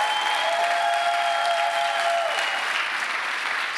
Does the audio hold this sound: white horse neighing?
no